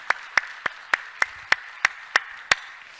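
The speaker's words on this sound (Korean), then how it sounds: "이번에 우리 교사들 한번 격려의 박수하겠습니다." A church congregation claps in unison to encourage its teachers, giving nine sharp, evenly spaced claps in a quick, steady rhythm over a quiet background.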